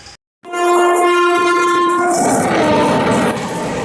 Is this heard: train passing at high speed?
yes